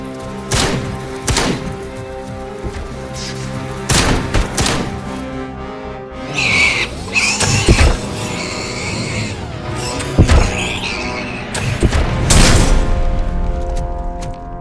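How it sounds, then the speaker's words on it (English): Shotgun blasts in the Robocop video game: a series of heavy booming shots at irregular intervals, mixed with thuds and game effects and a steady background score. "Shotgun just hits it all anyway."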